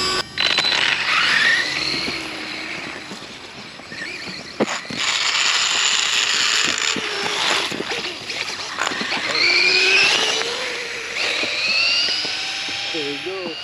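A Losi Promoto RC dirt bike's electric motor whines loudly, its pitch rising and falling as the bike speeds up and slows down outdoors, with voices talking at times.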